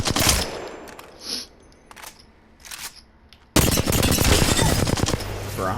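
A Flatline rifle fires during a video game warmup: brief bursts of shots separated by gaps, then a dense, loud stretch of continuous automatic fire to the end.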